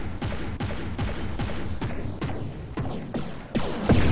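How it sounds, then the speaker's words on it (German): Explosive cannon shots boom in a rapid, regular volley in the From The Depths naval combat game, each blast sharp and loud with brief decaying tails, firing alone without voices. "Hier sieht man die bösen Explosionsschüsse, die sich an meinen Schilden vorbeiarbeiten."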